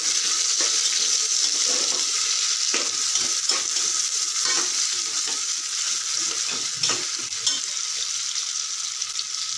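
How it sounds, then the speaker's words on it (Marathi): Chopped onion and garlic sizzle steadily in a hot pan, with a continuous frying hiss broken by repeated scraping stirs throughout, close and fairly loud with no talking. "आणि कट केलेले कांदा आणि लसूण देखील ॲड करूया। आणि व्यवस्थित परतून घेऊया।"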